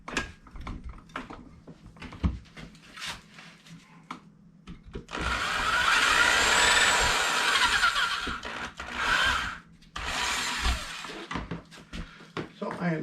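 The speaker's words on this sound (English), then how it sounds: "So I am done with drilling." An electric drill bores holes for a flanged bearing mod in bursts of high-pitched whirring lasting a few seconds each, separated by clicks and handling noises, fairly close and moderate in level.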